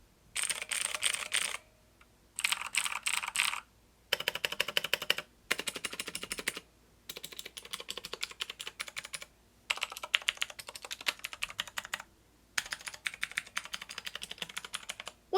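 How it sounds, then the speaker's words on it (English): Close, crisp clicking comes from an Ajazz AK33 mechanical keyboard with Zorro blue switches, typed in several fast bursts separated by short pauses. No one speaks. "Now we're going to be comparing the Ajazz keyboard with the Zorro Blues to this Red Dragon keyboard"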